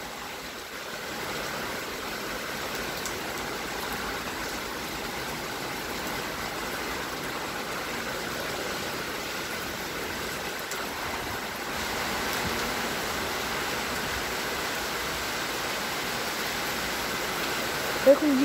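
A heavy rainstorm with strong wind in Athens in December 2019 makes a steady, broad roar of rain and gusts that swells slightly toward the end.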